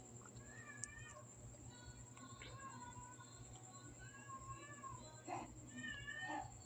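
Neighbor's cat meowing repeatedly in drawn-out, wavering calls, moderately faint over a steady hum and background noise in a home kitchen where lumpia bites are being cooked.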